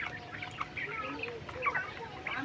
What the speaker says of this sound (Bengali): দেখতে আছেন আমার এখানে ইউরোপিয়ান হোয়াইট জায়ান্ট কটনিস পাখি ভরপুর